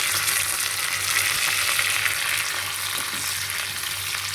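Tempering of mustard seeds, cumin, garlic, onion and curry leaves frying in hot oil for a cauliflower curry, a dense steady sizzle and crackle, close and constant, with no talk.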